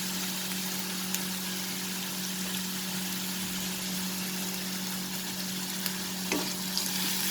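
Chopped onions and green chilies sauté in a hot pan for aloo paratha filling, giving off a steady, even sizzle that carries on throughout, with a faint utensil tap near the end.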